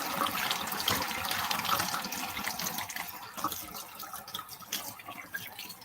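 Kitchen tap water running over a peeled vegetable being rinsed in a sink for homemade baked beans, a close splashing stream that gradually softens and grows more broken and dribbly.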